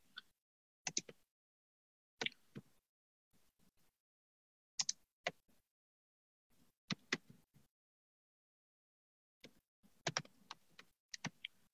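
Bursts of typing on a computer keyboard, quick clusters of light key clicks separated by pauses, faint and close with no talking.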